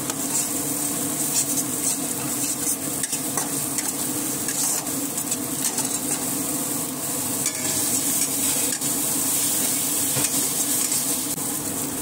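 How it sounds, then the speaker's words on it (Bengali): Ground paste of ginger, green chilli and onion sizzles steadily in hot oil as it is stirred for a raw banana kofta curry, a continuous close crackle with faint scraping and no talk. "আমি ভালো করে বেটে এই গরম তেলের মধ্যে বাটা মশলাটা দিয়ে দেব এবং ভালো করে কষিয়ে নেব।"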